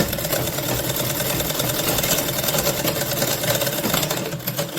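A sewing machine stitches fabric, running steadily and loudly up close for the whole stretch, while its lower bobbin stitching is being checked for a fault.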